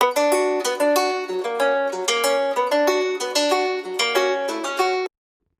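A bright plucked melodic sample plays a short repeating phrase of distinct notes at an even pace, then cuts off abruptly.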